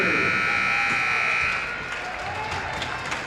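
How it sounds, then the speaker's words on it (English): A loud, sustained electronic buzzer blares through a hockey arena at the end of the first period, then cuts off, leaving crowd ambience and scattered applause behind it. "that will be the buzzer to lead us into our first intermission here"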